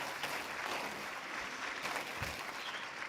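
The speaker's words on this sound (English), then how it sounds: "Can we give a great round of applause to Hyderabad?" Audience applause at a career conclave session in Hyderabad, a steady dense clatter of many hands clapping throughout, fairly even in loudness with no speech over it.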